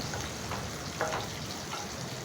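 Onion, green chilli and curry leaves frying in oil in a nonstick pan, a steady soft sizzle with faint crackles throughout, close and quiet.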